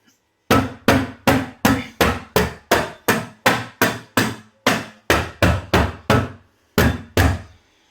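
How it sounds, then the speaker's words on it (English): A hammer stapler fixes carpet underlay on a staircase, striking repeatedly in a steady rhythm, about fifteen sharp, close thuds with brief pauses between them. "we're going to use my hammer stapler just to hammer it down."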